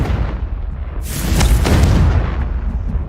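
A Confringo explosion spell goes off in the video game Hogwarts Legacy: one loud, near blast that swells into a rumbling roar for about a second before easing back to the low game ambience.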